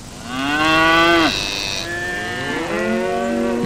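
Cattle mooing loudly and close by, two long drawn-out lowing calls with a brief pause between them.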